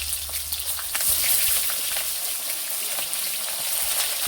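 A bay leaf and large pieces of chopped onion fry in hot oil in a Bengali kitchen, giving a loud, steady, hissing sizzle that carries on throughout with no voices.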